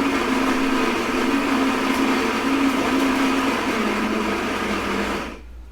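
Saeco Xelsis-style espresso machine in worn, faulty condition brewing espresso from classic Italian beans: a steady loud pump hum with a constant drone, running unbroken for about five seconds and then cutting off abruptly.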